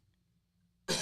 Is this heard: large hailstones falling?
no